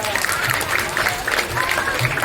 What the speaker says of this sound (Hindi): इनके नाम पर तालियां